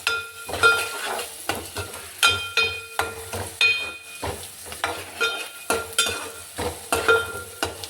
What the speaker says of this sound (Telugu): ఉల్లిపాయ ముక్కలు బాగా మగ్గాలి